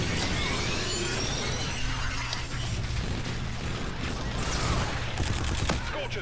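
Sustained battlefield din from an enemy bombardment in Call of Duty: Infinite Warfare, with dense rumbling impacts and scattered gunfire held at a steady loud level throughout, a sharper burst of shots near the end.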